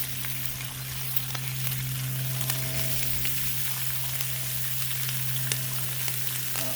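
Bacon sizzles steadily on a hot Blackstone griddle up in the mountains, a continuous crackling fry with a low steady hum beneath and occasional sharper pops, close and alone with no voices.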